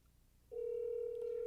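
A telephone call rings through a speakerphone: after a moment of faint hiss, a steady electronic ringing tone starts abruptly and sustains loud and clear to the end.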